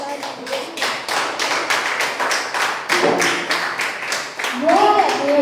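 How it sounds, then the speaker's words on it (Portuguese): A church congregation claps together in a steady rhythmic run of applause, loud and close, while a voice speaks and calls out over it. "Vamos aplaudir Jesus."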